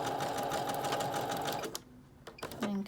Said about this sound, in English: Back stitching right at the beginning and then follow right along.